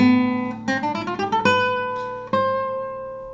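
A guitar runs through a scale practice pattern in a burst rhythm, groups of rapid plucked notes alternating with longer held notes, heard close and solo without any voice.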